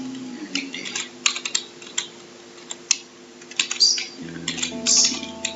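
Fingers type a password on a computer keyboard during a WordPress website setup, giving a run of irregular, fairly close keystroke clicks over a faint steady tonal background.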